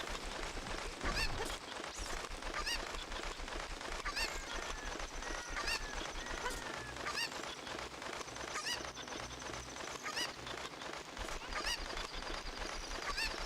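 Cucco chickens cluck and squawk steadily in The Legend of Zelda: Ocarina of Time, bird calls repeating throughout over busy game sounds, with no talk.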